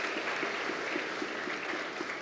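Audience applause fills the State Duma chamber, a steady, dense wash of clapping from a large hall that holds even through the whole stretch with no voices on top.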